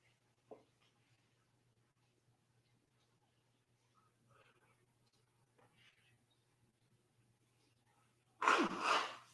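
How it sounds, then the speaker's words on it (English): A single close, loud sneeze near the end, following a long stretch of near silence broken only by faint soft rustles and quiet breaths. "I'm going to sneeze again."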